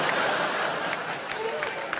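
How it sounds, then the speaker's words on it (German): An audience at a comedy show applauds a comedian, with scattered clapping and crowd noise running steadily under the whole stretch and a voice talking over it. "Entweder ihr klatscht sofort oder was ist es?"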